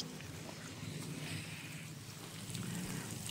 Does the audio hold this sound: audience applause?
no